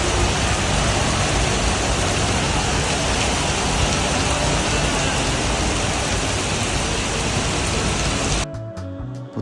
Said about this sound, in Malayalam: മലേഷ്യയിൽ വർഷം മുഴുവനും വല്ലപ്പോഴുമൊക്കെ ഇങ്ങനെ മഴ പെയ്തുകൊണ്ടിരിക്കും